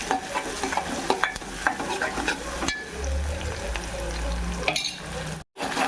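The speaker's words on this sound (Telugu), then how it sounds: "కొంచెం వేడెక్కగానే ఉల్లిపాయ ముక్కలు, బాగా కొంచెం ఫ్రై చేసుకున్నాం." Onion pieces frying with shahjeera in hot oil for Andhra-style mutton masala curry, a steady close sizzle with repeated scraping stir strokes against the pan, continuous throughout with a brief dropout near the end.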